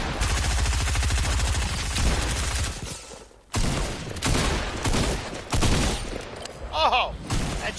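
Dense, sustained gunfire in Fortnite, rapid automatic bursts layered with heavy shots, loud and close, briefly dropping out before resuming in choppy volleys, with a voice faintly underneath.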